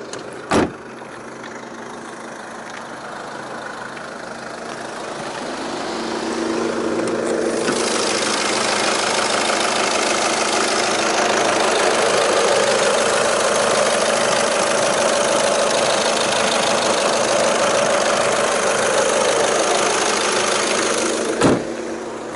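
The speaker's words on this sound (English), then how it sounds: "let's pop the bonnet and have a look underneath while the engine's running" A diesel Audi A3 1.6 TDI convertible idles with the bonnet open, a steady close mechanical clatter and hum that swells slightly after a few seconds and holds evenly, with a couple of brief clicks.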